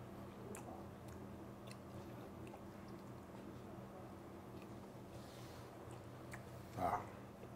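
Soft, close chewing of seasoned Korean fried chicken topped with perilla leaves and mayonnaise, a quiet steady munching with one brief louder crunch near the end, no talking.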